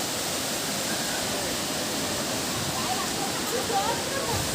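Water pours down Handibhanga waterfall in Keonjhar as a steady, even roar of falling water that runs without a break the whole time.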